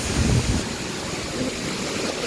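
Steady broadband rush of Ranao Falls heard up close from a slippery trail leading beneath the falls, a continuous water roar with a louder low swell near the start and no talk.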